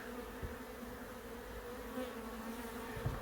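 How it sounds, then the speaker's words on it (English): Bees inside a caravan beehive hum in a soft, steady drone, with a few louder buzzes passing close now and then against the constant low whir of the colony. "lots of bees still in here"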